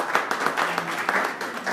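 Audience applause at a business-association agenda presentation, a dense steady wash of clapping lasting under two seconds with no break in it.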